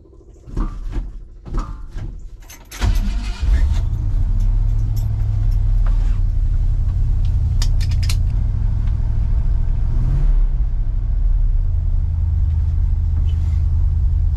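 A Ford Dentside truck starts with a few clunks and knocks, then its engine settles into a steady, loud rumble as it drives on a test drive after a radiator repair, with a brief rev midway.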